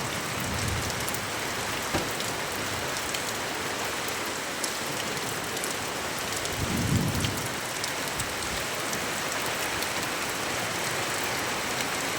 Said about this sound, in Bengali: প্রচুর বৃষ্টি